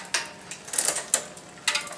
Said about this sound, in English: That was the sound of the derailleur trying to go into the spoke.